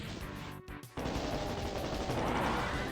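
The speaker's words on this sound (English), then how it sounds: "I can just face plant all the enemies with a rocket launcher." Rocket launcher fire and explosions in the video game Doom 2, a loud, dense burst of blasts that briefly drops out, then returns as continuous roaring booms.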